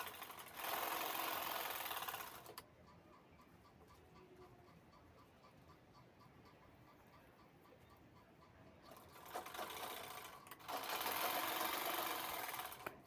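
Sewing machine stitching the folded lining of a handbag, running in two fast whirring bursts at the start and end with a quieter pause between, close and steady, no talking.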